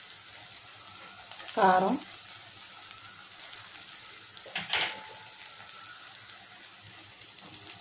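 Dried prawns fry in a pan with a faint, steady sizzle and crackle, and a voice speaks briefly over it.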